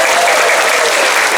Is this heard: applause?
yes